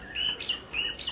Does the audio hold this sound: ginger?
no